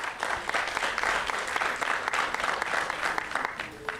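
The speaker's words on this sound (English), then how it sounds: "Give a round of applause on these things." Audience applause at a recreation center ribbon cutting ceremony, a steady wash of many hands clapping close by for about four seconds, with a faint voice near the end.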